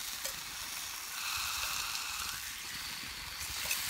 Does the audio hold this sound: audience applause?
no